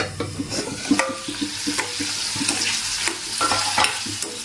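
Chopped capsicum and tomato fry with turmeric in a pan, a constant close sizzle punctuated by scraping stirs and occasional sharp clinks of a utensil against metal.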